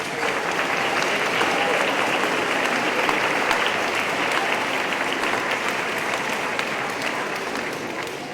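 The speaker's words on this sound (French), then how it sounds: "Vous pouvez applaudir aussi." A church congregation at a communion celebration claps together, a continuous, even patter of many hands that holds steady for the full stretch and fades slightly near the end.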